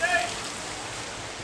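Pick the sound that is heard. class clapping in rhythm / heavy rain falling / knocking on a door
heavy rain falling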